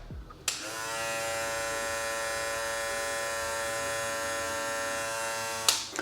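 A BaBylissPRO FX One cordless hair clipper switches on with a click, buzzes steadily at a constant pitch for several seconds, then clicks off.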